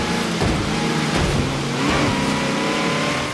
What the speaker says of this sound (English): V8 supercharged Corvette from the old days.